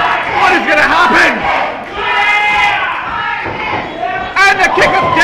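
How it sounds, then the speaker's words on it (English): Crowd at an independent pro wrestling no-DQ match chanting a wrestler's name, a loud rhythmic mass of voices with swelling cheers and a sharp burst near the end. "The crowd is chanting his name."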